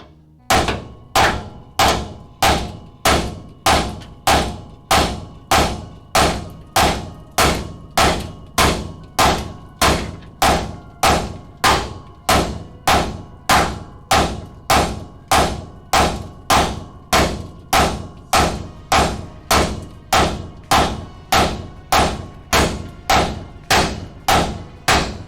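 A sledgehammer clangs against metal in a garage, about forty loud, evenly spaced blows repeating steadily at roughly one and a half per second, each strike sharp with a ringing metallic decay.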